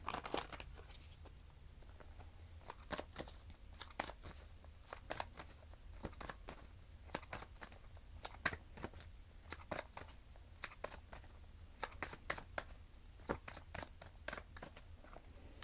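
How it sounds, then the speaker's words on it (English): A deck of tarot cards being shuffled by hand, quiet and close, with rapid repeated riffling clicks and snaps that continue steadily with no one speaking. "I'm going to shuffle this deck."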